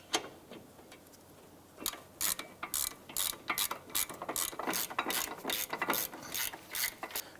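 Quick, close ratchet clicking in repeated bursts as the bolts on a front brake caliper of a 2005–2009 Subaru Outback are tightened, preceded by a quieter lead-in, with no talking.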